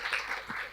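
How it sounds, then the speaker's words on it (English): Audience applause at the close of an academic business and economics research panel, a soft, steady wash of many hands clapping at moderate distance for just under a second, with no voices over it. "Please join me to attend once more a warm applause for Professor"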